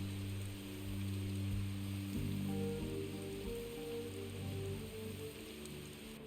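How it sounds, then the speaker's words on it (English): Steady rain falls in the video game Last Stop, a constant wash of patter on surfaces with low ambient tones underneath, no voices. "They just walk in the rain, you know. It's soaking wet."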